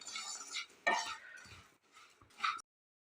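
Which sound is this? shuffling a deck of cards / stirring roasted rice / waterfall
stirring roasted rice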